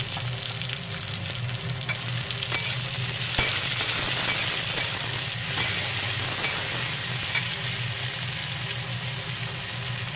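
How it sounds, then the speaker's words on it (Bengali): Onion and tomato sizzle together in a pan for a cabbage and fish-head curry, a loud, dense, even frying hiss with faint stirring scrapes, heard close up with no voices. "পেঁয়াজটা ভাজা হয়ে গেছে, এবার আমি টমেটোটা দিয়ে নিয়েছি। একসাথে সব ভাজা হবে।"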